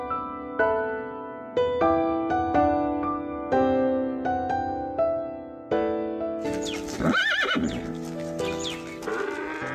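Horses whinny again and again in loud, close calls, with hooves clip-clopping under them, ending in a busier burst of neighing and snorting; no talking.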